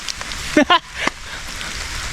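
Rain falling in a forest makes a steady, even hiss throughout, with a couple of short bursts of a voice early on.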